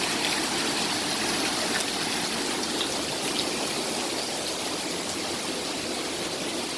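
Flood water rushes through a creek in a steady, dense broadband roar, unbroken and fairly loud throughout, with no voices.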